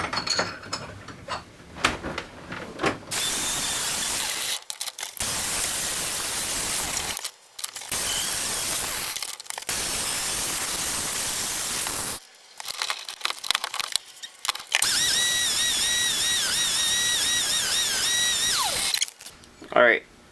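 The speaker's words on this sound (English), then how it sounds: "Just gonna wire wheel this off real quick" Wire wheel brushing a steel knife blade in a workshop, a harsh loud grinding whir in several bursts broken by short pauses, with a voice speaking at the start and whining tones toward the end.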